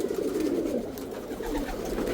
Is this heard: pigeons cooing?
yes